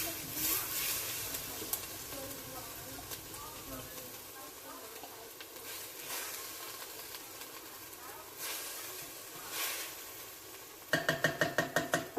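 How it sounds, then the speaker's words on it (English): Steady hiss and crackle of food frying in hot oil, continuous throughout, with a quick burst of rapid knocks near the end. "Yes, you can hear it sizzling."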